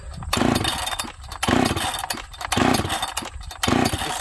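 A chainsaw with a governed carburetor runs loud and close, its engine note swelling and easing in regular pulses about once a second with no talking.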